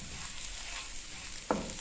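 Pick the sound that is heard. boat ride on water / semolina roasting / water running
semolina roasting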